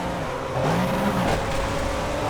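A McLaren F1's engine revs up in the Project CARS racing game, a close, steady droning roar whose pitch rises and swells midway, with no voices.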